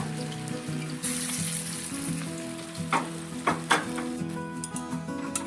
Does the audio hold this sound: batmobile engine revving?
no